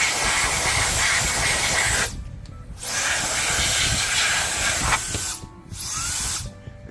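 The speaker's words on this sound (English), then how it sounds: "this is a little rechargeable fan" Small rechargeable fan blowing dust off a workstation, a steady airy hiss that cuts off twice for about a second each time before resuming, fairly loud and close, with no voices.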